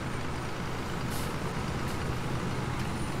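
A heavy vehicle in Landwirtschafts-Simulator 17 rolls downhill with a steady, dense engine and road rumble, with faint airy hisses rising briefly above the constant drone.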